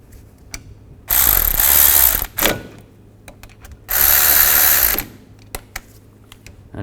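A ratchet tightens brake caliper bolts on a Chevrolet Cobalt in two loud, close bursts of rapid clicking, each about a second long, separated by a short burst and scattered single clicks.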